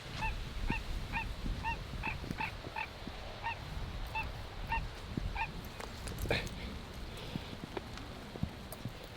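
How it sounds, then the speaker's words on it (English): A distant turkey gives a rapid series of short gobbling calls in bursts on a working farm, faint against outdoor background noise and rustling. "It does sound like a turkey though."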